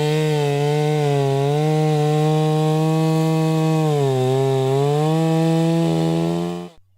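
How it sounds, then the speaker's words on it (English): A petrol chainsaw cutting wood drones loudly and steadily, its pitch dipping slightly as it bites, then cuts off abruptly near the end. "Sawing is very fast and easy with this chainsaw compared to manual saws."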